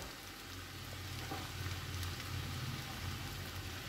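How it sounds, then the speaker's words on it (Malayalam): Capsicum for Kerala-style vegetable noodles sizzles steadily in hot oil, a dense continuous crackle close by with a faint stirring scrape, no voices. "നമുക്കിതിലോട്ട് നമ്മുടെ ക്യാപ്സിക്ക അങ്ങ് ഇട്ട് കൊടുക്കാം"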